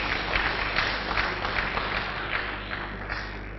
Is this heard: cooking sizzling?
no